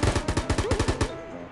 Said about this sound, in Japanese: 銃声鳴ってる。